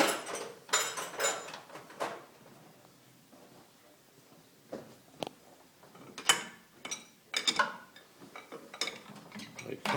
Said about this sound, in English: that Castle Nut's getting tightened up